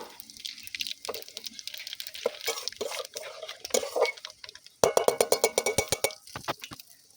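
Whole spices, a dried red chili, bay leaf and black cumin hit hot oil with crackling, spattering pops and clinks of a metal pan, growing sharper and louder in rapid bursts toward the end; no talking.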